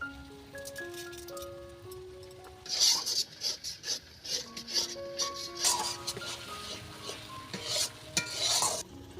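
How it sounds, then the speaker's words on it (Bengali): Chopped tomato sautés in spice masala in a pan. Vigorous, close stirring and scraping bursts rise over a background sizzle, and faint tonal hums run underneath. No voice is heard. "টমেটোটা দিয়ে আরেকটুখানি কষাবো, সামান্য কিছু চিনি দিয়ে দেবো।"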